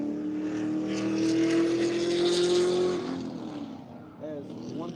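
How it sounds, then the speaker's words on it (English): A race car engine at full throttle gives a loud, sustained, droning roar that rises in pitch, holds, then drops away and fades as the car pulls off into the distance. "We'll hear it under full throttle here again."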